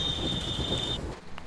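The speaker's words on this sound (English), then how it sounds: "And here we'll stop our train at this H marking." A BR 193 Vectron locomotive in Train Sim World 5 rolls into a platform and slows, with a steady high brake squeal over a low rumble. The squeal cuts off partway through as the train comes to a halt.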